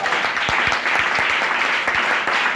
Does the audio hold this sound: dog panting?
no